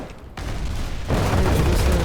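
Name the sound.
storm cannon firing in a video game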